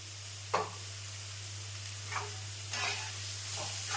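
Sliced onions with a spoonful of sugar frying in a pan, heard as a faint, steady sizzle over a low constant hum, broken by a few soft spatula scrapes as they are stirred.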